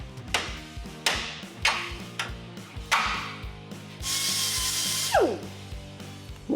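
Fitting and tightening a U-bolt over a leaf spring on a square-body truck's 1-ton Dana 60 axle: sharp metallic clanks repeat about once a second, then a steady power-tool whir runs for a second, ending in a falling mechanical whine.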